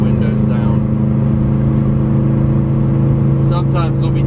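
A 2017 Subaru STI driving on country back roads in Ohio with the windows down: a loud, steady engine drone with rushing wind, and someone talking over it at the start and end.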